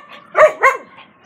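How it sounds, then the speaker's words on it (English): Two sharp, close barks from a dog follow each other quickly, loud and clear, with a softer yip trailing after and no talking. "He has these two dogs, Ava and Oliver."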